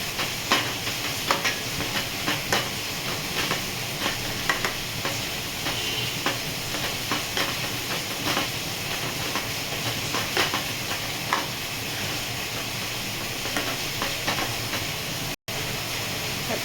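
Paneer bhurji being stirred in a hot pan, with a steady, broad sizzle and repeated light scraping strokes of a spoon running continuously, briefly cutting out near the end.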